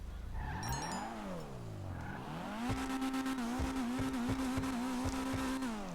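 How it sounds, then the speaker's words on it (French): Customized Dinka Postlude car exhaust in GTA Online, revving up and down in smooth sweeps, then holding a steady droning engine note with sharp popping bursts from the exhaust, close and fairly quiet. "Évidemment, un bel échappement, comme d'habitude."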